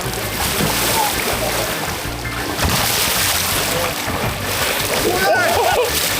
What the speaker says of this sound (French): Oh là là, la piscine à vagues. Ah, les vagues, elles sont trop grosses, ils vont retomber.